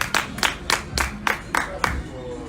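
An audience claps for a donor at Fela Anikulapo Kuti's house, the Kalakuta Museum: a short run of about seven sharp, evenly spaced claps, loud and close, with no talk over them.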